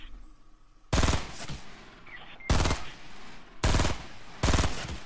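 Four loud bursts of rapid automatic gunfire from the video game Fortnite, each about half a second to a second long, spaced out over low background game noise.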